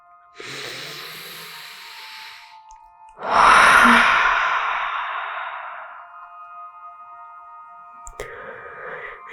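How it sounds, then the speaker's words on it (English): A long, forceful exhale out the mouth during an evening yoga session follows a shorter breath in, loud and close, then trails off softly, with no talk. "let's take a cleansing breath in through the nose and a big exhale out the mouth."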